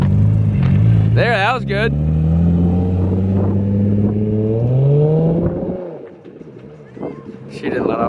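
A Nissan 350Z Nismo engine revs steadily with a rising, droning pitch as the driver shifts gears, then drops off near the end, while people talk over it from inside the car.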